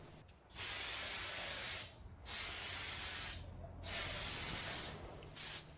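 Spray paint can laying a fine first coat on a 1987 Kyosho Cosmo RC car body, three long steady hissing bursts with brief pauses between and a short fourth burst at the end, close and alone.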